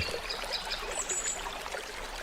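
A river flows and trickles softly at low level in a quiet natural setting, with faint bright chirps above the water.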